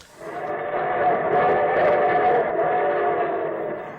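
A steady rumbling train sound effect on an old radio show, loud and continuous, with a broad roar and faint whistle-like tones, swelling in and fading slightly at the end.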